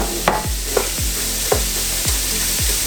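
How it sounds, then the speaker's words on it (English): Hash browns and sausage sizzle and fry side by side in a pan, a steady close crackle broken by a few soft scraping stirs. "we're browning the hash browns and the sausage"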